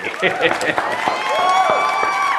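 Audience at a live poetry or mimicry performance claps for a performer, a moderate burst of applause mixed with a voice speaking over it.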